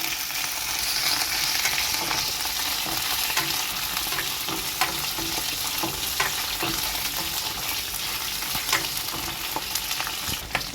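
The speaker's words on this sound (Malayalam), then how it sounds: "നമ്മൾ നേരത്തെ എടുത്തു വെച്ചിരുന്ന വെണ്ടയ്ക്ക ഇതിലേക്ക് ഇട്ട് കൊടുക്കും" Okra sautéing in oil with mustard seeds, onion and fenugreek, a continuous close sizzle with scattered pops and light stirring scrapes throughout.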